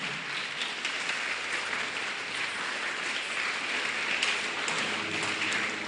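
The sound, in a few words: audience clapping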